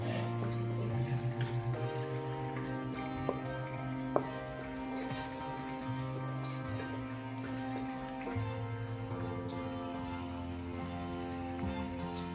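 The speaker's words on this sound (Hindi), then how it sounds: "प्याज डाल के इसको हम थोड़ा सा फ्राई करेंगे" Onions frying in a pan for chana dal with bitter gourd give a steady, even sizzle like light rain that runs throughout, with a faint tonal hum beneath it.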